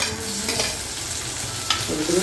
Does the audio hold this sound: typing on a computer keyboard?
no